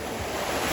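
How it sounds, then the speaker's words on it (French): Sea waves wash in a steady, close roar of surf during an open-water swim, with wind buffeting the microphone and no talking. "il y a plein de vagues, non?"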